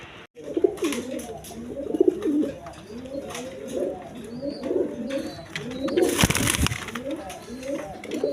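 Pet colouring pigeons, including a Moslodom pair, coo in a steady repeating rhythm close by, their throaty calls layered over one another with a brief burst of rustling noise midway.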